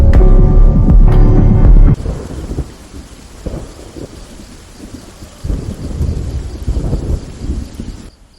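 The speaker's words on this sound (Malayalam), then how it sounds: "എന്ത് മഴയാല്ലേ?" Heavy monsoon rain pours down with thunder, opening with a loud, deep rumble before settling into a steady, dense downpour that swells again toward the end, with no voices.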